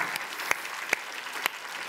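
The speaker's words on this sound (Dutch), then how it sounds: "graag een groot applaus voor frisse kater" Applause from the studio audience of a Dutch talk show: a brief, fairly quiet spell of crowd clapping with a few sharper individual claps standing out.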